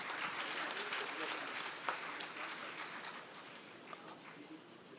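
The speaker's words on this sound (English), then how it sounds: "Applause, please." An audience applauds at an awards ceremony, a soft, distant wash of clapping that carries on steadily and gradually fades, with faint voices beneath.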